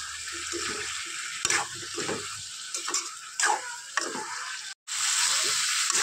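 Frying sizzles close up in a pan, cut by repeated scraping stirs and utensil knocks, with a brief drop to near silence before the hiss resumes loudly; the dish is shol fish with thin potato curry.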